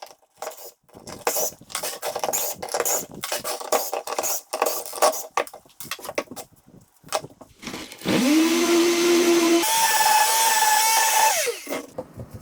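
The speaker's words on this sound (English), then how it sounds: "the damage from the screws can be cleaned up with a sander" A power sander works over broom heads to smooth screw damage, with scraping, rasping strokes followed by a steady high whine as the tool runs for several seconds, then winds down.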